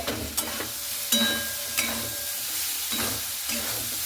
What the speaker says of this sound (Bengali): তেলটার সঙ্গে সেই সয়াবিনটাকে খুব ভালো মতো করে কিন্তু এইভাবে ভেজে নিতে হবে